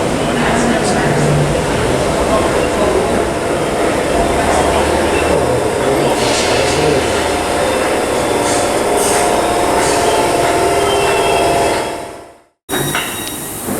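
A ScotRail class 320 electric train, the 12:33 service to Springburn, runs through the low-level platforms at Glasgow Queen Street, a loud steady rumble and wheel noise filling the stretch before cutting out abruptly near the end.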